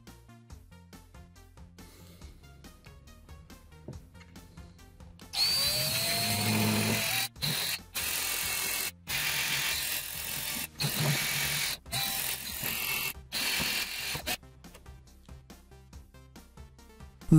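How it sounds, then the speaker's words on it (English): A rotary tool with a grinding bit whines loudly in several bursts, cutting in and out while enlarging holes in a metal GPU bracket, with quieter ticking mechanical sounds before and after. "Now I have some pilot holes, I'm going to use some grinding bits to finish off."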